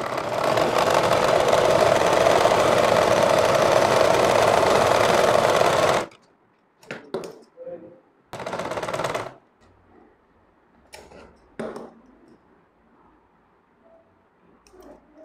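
A sewing machine stitches the border of a frock with a loud, steady mechanical whirr for about six seconds, then runs in a few short bursts separated by quiet pauses.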